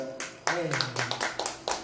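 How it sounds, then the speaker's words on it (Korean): Scattered clapping from a small audience at an outdoor stage show in Jinju, a handful of separate sharp claps over a lingering sung or spoken tone, fairly faint and sparse. "박수 한번 보내주세요."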